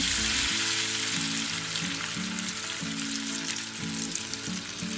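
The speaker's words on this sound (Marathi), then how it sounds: "त्यानंतर त्यात टाकायचं थोडंसं जिरं आणि मग छान टेस्टसाठी थोडासा लसूण टाकून घ्यायचा" Cumin seeds and garlic frying in hot oil, a loud close crackling sizzle that runs continuously with no talking over it.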